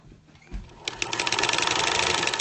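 A sewing machine stitches through a knitted steek, starting with a few slow thumps, then settling into a fast, steady, close mechanical chatter of rapid needle strokes.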